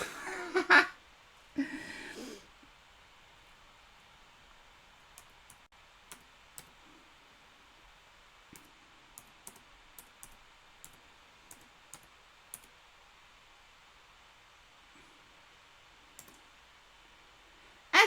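Sparse, faint keyboard clicks sound at irregular intervals over a quiet room, after a brief burst of louder rustling and handling noise at the start.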